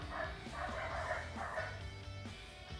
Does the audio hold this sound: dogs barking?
yes